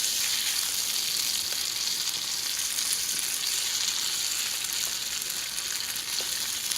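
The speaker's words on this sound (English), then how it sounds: "we are done with this frying" Steady, loud sizzling of egg and meat frying in a hot pan, continuous crackle with no voices.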